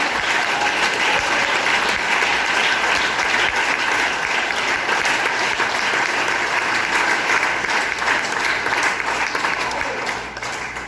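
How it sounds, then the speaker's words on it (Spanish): Church congregation applauding during a sermon, a dense, steady wash of clapping that holds loud and even for about eleven seconds before easing slightly at the end. "¿Alguien puede aplaudirlo?"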